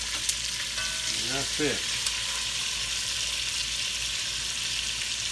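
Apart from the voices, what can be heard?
oxtail searing in a pan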